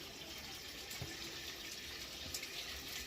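Tap water running into a container at home: a faint, steady hiss of flowing water with no breaks and no voices.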